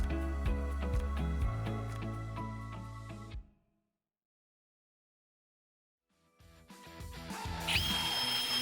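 A power drill fitted with a 3/16 inch bit bores holes into a door hinge, running loud and whining in two close bursts separated by a few seconds of silence.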